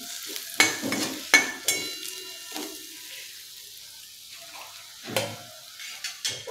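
Onion and turmeric sautéing in a pan for Kolhapuri misal, a spoon scraping and stirring in several distinct strokes over a soft sizzle, close by with no talking.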